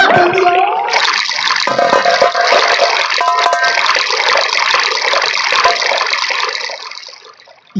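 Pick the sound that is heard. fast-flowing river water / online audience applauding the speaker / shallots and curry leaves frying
fast-flowing river water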